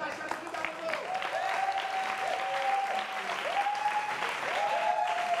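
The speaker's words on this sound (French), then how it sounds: "Applaudissements bien" A crowd at a maquis anniversary party applauds continuously, steady clapping beneath scattered voices and brief tonal calls, filling the whole stretch at moderate level.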